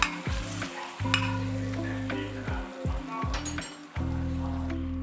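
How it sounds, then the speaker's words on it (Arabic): Minced meat frying in a spoonful of ghee while being stirred, giving a steady close sizzle broken by repeated scraping and clinking strokes of the spoon against the pan. "عصاج اللحمه، حطيت معلقه سمنه وعلى اللحمه المفرومه"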